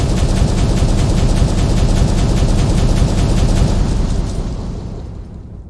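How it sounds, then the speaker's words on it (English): Loud explosives blast through dirt in the mining game Out of Ore, a dense, sustained roaring rumble that holds for several seconds, then fades away. "You actually can't change the volume of the explosives"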